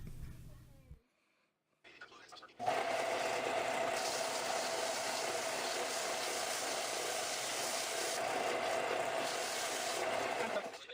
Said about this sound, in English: take it over to the belt sander and get it flat so it has a good